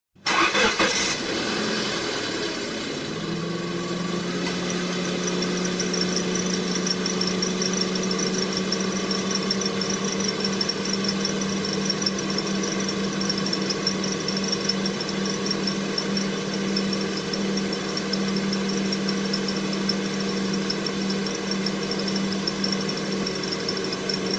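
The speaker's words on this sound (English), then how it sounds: "when we turn on the air conditioning, the compressor starts making noise" A car engine idles with the air-conditioning compressor running and a loose compressor part, a steady droning hum with a low persistent whine and faint rattling vibration, continuous and close after a brief starting surge.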